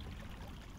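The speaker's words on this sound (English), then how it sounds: "I hear water running." Running water in the Dragon Ball Online MMORPG, a steady, soft trickling stream heard alone for a brief moment at low volume.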